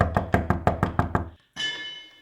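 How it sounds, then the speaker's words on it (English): Knocking on a front door: a steady run of eight sharp raps, close and loud, then a brief pause followed by a bright ringing tone. "He knocked on the front door."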